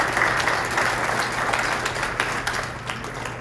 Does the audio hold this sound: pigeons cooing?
no